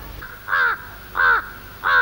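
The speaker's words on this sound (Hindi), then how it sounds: "बीवी जी कौवे आ रहे।" Crows caw three times at steady intervals, harsh calls standing out over a low background hum with no speech.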